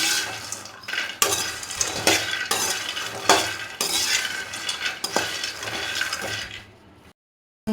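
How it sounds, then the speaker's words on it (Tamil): Makhana (fox nuts) dry roasting in a pan on low heat, stirred continuously with a rattling, scraping, crackling texture and sharp clinks of the spatula, then stopping abruptly near the end. "சிம்மில் வச்சுட்டு எல்லாத்தையும் நல்லா ட்ரை ரோஸ்ட் பண்ணி எடுத்துக்கோங்க."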